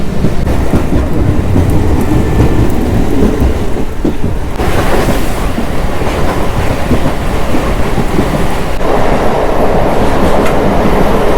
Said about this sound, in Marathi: पाऊस आला परत